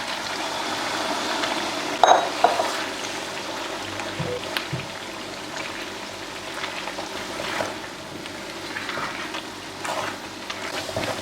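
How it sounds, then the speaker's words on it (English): Tomatoes go into a pot with tomato paste and sizzle with a steady hiss, along with a few clatters and stirring knocks. The sound is close and continuous with no talking. "Fry the tomato paste first or fry the tomato first, anyone. Now bring in my tomatoes."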